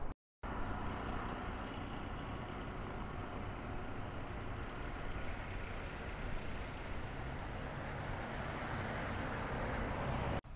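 A car drives along the newly commissioned Jahi Road in Abuja, its steady road and engine noise rolling on without a break, close and fairly loud, with no talking.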